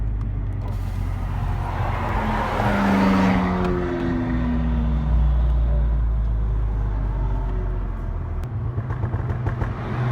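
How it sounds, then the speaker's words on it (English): A McLaren sports car engine roars past, its pitch sweeping down as it passes, leaving a low steady rumble behind. "Check out this car right here,"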